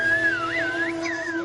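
Whistled language of the kind used by Saharan nomads and shepherds: a single clear, loud whistle glides up and down in a speech-like melodic line and breaks briefly near the end.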